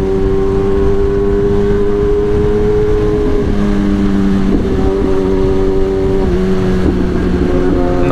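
Kawasaki ZX10R sport motorcycle engine with a remapped ECU running steadily up close, its pitch dipping and climbing through several rev changes, loud and continuous with no talk.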